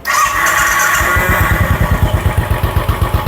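A 2019 Royal Enfield Bullet Trials 500 motorcycle with a 500cc engine cranks briefly, then fires and settles into a loud, close, evenly thumping single-cylinder idle.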